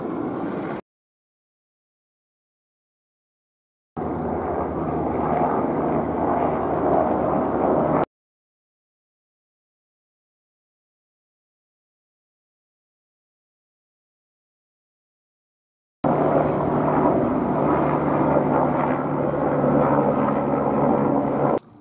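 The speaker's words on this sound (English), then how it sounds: "we don't get that many helicopters flying over" Helicopter passes directly overhead, a heavy low rotor rumble and roar heard in loud bursts separated by silent gaps, with no voices.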